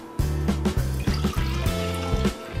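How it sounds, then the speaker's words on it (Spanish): Lime juice poured for micheladas makes a close, gurgling trickle with a low bubbling pulse that runs in short bursts for a couple of seconds. "Y vamos a poner un cuarto de taza de jugo de limón."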